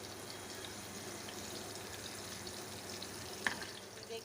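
Onions, red chillies and a bay leaf fry in a pan with a soft, even sizzle, faint and steady throughout, with one brief sharp tap near the end and no voices.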